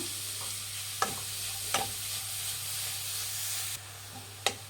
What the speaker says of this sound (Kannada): ಇದು ಬೆಣ್ಣೆ ಜೊತೆ ಚೆನ್ನಾಗಿ ಫ್ರೈ ಮಾಡೋಣ.